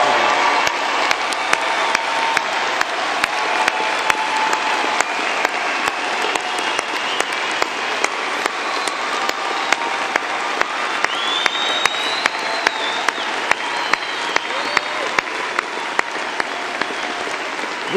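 A large commencement audience at MTSU's spring ceremony gives veterans a long, even round of applause, loud and continuous, with occasional cheers rising over the clapping.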